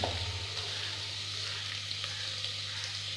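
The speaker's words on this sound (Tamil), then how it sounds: "வெங்காயம் சேர்த்துட்டு இதை நல்லா வதக்கிக்குவோம்." Onions with a pinch of salt sauté in a pan for goat head gravy, a steady hissing sizzle close by with a faint low hum underneath, short and even with no voices.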